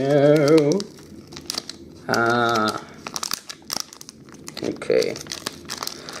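Crinkling and tearing of a Pokemon card booster pack wrapper, with short bursts of plastic crumpling and rustling up close, interspersed with a person talking.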